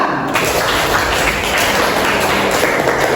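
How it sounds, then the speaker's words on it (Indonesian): Brief applause in a classroom lesson on fasting and Ramadan, a dense, muffled burst of clapping that fills the short stretch without speech. "Bagus, tepuk tangan."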